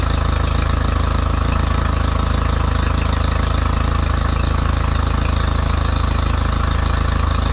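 A Mercury 60 hp four-stroke outboard engine idles steadily and loudly up close, a constant low rumble with an even mechanical chatter running unbroken throughout, with no talking.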